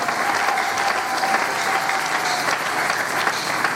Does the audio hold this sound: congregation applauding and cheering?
yes